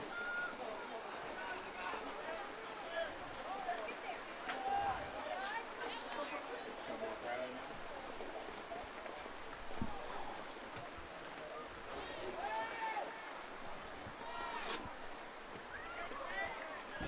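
Rain falls outdoors at a boys' varsity soccer game, spattering softly on a covered camera as a continuous hiss, while distant voices and shouts carry across the field.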